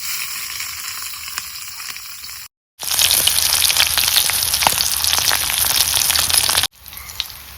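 Green chilies sizzle in oil on a griddle, a loud, close crackling fry that runs steadily, broken by two brief silent gaps.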